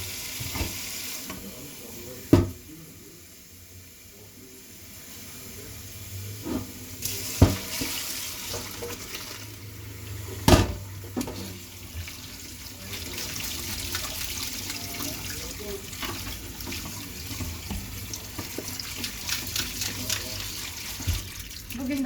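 Pasta water drains into a kitchen sink, a steady hissing, splashing rush of water running throughout, with a few sharp knocks and clatters of a pot or strainer.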